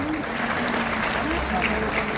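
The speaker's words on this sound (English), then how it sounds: "Please give a round of applause. As well as our Dr. Ann Sena" A room full of people clap steadily, a dense even patter of applause with no pause.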